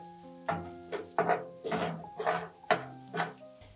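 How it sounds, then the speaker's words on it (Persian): Chopped onions with turmeric frying in a pan while a utensil stirs and scrapes in repeated strokes, a steady sizzle underneath, close and fairly loud, with no talking. "بعدش نصف قاشق چای خوری زردچوبه به پیازا اضافه میکنیم و هم میزنیم."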